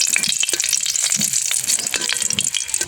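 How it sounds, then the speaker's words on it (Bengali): Chilies, garlic and onion frying in hot oil in a wok, a steady crackling sizzle broken by frequent sharp pops and spatters, close and alone with no talk. "কড়াইতে তেল দিয়ে দিয়েছি, এবার মরিচ, রসুন, পেঁয়াজ এগুলো হালকা করে ভেজে নেব"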